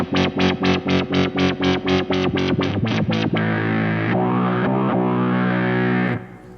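Distorted synth chord through a Dreadbox Treminator tremolo pedal, pulsing in rapid, regular tremolo beats, then holding as a sustained buzzy tone that shifts pitch before cutting off.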